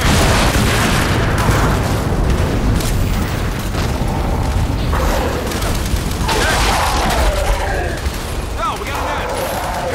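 Gunfire and explosions roar nonstop in the Gears of War 5 co-op shooter game, with dense booms and bursts packed tightly together and a voice speaking underneath the constant battle noise.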